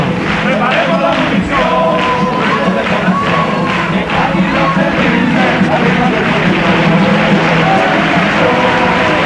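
A theatre audience gives a long, loud ovation to a Cádiz carnival comparsa choir, with dense applause and crowd cheering throughout.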